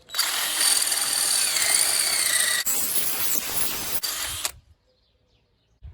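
A size 12 drill bit bores through a rusty bolt hole on a 2014 Kia Sportage 2.0 CRDI, a loud, high, whining grind held steadily for about four seconds with a brief catch midway before it stops abruptly.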